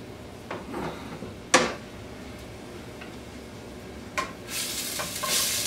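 Soft sizzling of onions frying in a pan, with a few sharp clatters and stirring scrapes, growing brighter and hissier toward the end.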